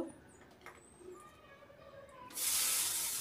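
Cumin seeds, a bay leaf and two dried red chilies hit a spoonful of hot oil: after a quiet, faintly clinking start, a loud, steady sizzle bursts in and holds.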